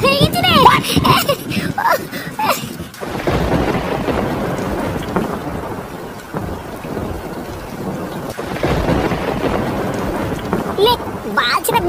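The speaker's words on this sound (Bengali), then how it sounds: "বালছেটা বৃষ্টি শুরু হলো তো," Cartoon rainstorm with loud, continuous rain and rumbling thunder, while voices talk over it throughout.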